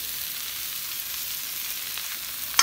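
Rice sizzles steadily in a hot pan while fried rice with salted fish is being cooked, a close, continuous crackling hiss with no talk and a small click at the very end.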